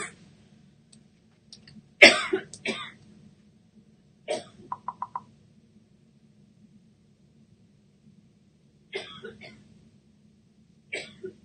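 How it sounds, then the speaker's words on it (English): A few separate coughs and throat-clearing sounds from a person alone in a quiet room, with long silent gaps between them and a low hum in the background. "Cough a little bit here."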